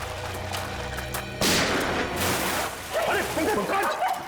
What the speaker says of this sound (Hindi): एसीपी चित्रोले गोली चला रहे।